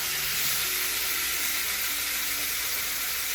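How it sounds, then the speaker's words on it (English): Oxtail and goat meat browning in a hot pot for a Jamaican stew, giving a steady, close sizzle and frying hiss with no pauses. "This is to brown the meat up."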